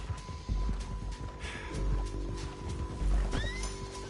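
In a PS4 video game, a horse whinnies loudly near the end, with hoof clops, snorts and game ambience around it.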